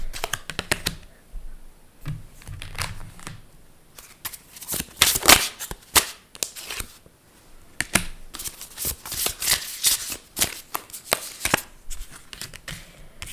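Cards for a card reading are shuffled by hand close up, with bursts of rapid riffling and flicking clicks separated by short pauses, and no talking.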